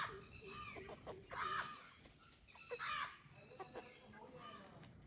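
Chickens cluck and squawk in short bursts at close range, with faint background noise between the calls.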